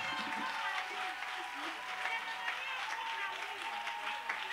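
A church congregation applauds in praise, a steady wash of clapping and crowd noise that holds at an even level throughout, with voices mixed into the clapping.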